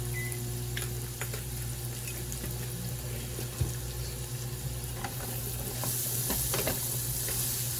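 Minced garlic frying in a pan seasoned with pepper, garlic powder, onion powder and cayenne for smothered chicken makes a loud, close, continuous sizzle. Occasional scrapes and stirring knocks sit on top, and the sizzle swells slightly near the end.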